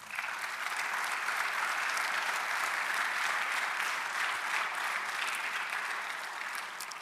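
A church congregation applauds together, a dense, even wash of clapping that holds steady for several seconds before easing slightly at the end.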